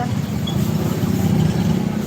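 Motorcycles and other traffic rumble steadily along a street in Naga City near a food stall, a continuous low engine drone with no distinct single pass-by, loud and close throughout.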